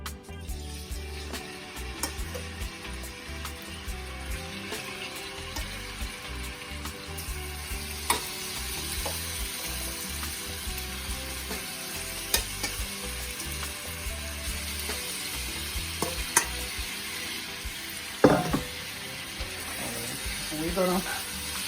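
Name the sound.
steak frying in oil in a pot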